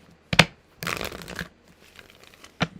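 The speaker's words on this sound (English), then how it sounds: "Let me shuffle one more time." Tarot cards shuffled by hand in short, close bursts of papery riffling and slapping, separated by brief pauses, with no one speaking.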